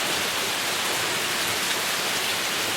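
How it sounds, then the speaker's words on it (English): Steady, dense rain falls outside near a deck, a continuous even hiss with patter on surfaces, no voices, holding at a constant level throughout. "The weather sucks when it's raining, but it really is beautiful."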